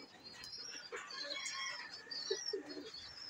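Soft pigeon coos repeat among other bird chirps inside a pigeon loft during rain, with a faint patter of background noise around them.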